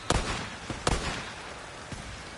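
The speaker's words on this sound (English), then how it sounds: "Nearly got caught out by the grenade there." Grenade blasts in the video game Days Gone: a few sharp, booming bursts spaced unevenly over a couple of seconds, punchy and close, with quieter rumble between them.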